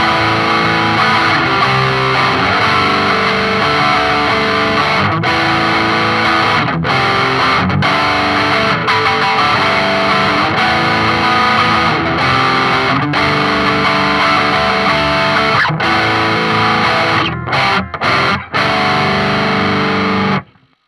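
Re-amped electric guitar through an amplifier speaker, close-miked at the center of the cone with a Sontronics Halo, plays continuously with heavy distortion and effects, full and loud for about twenty seconds before cutting out in a few choppy breaks.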